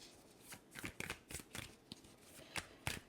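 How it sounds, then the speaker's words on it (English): A deck of tarot cards is riffled and shuffled in a series of quick, crisp bursts, close and fairly quiet. "Let's go ahead and shuffle just a teeny tiny bit."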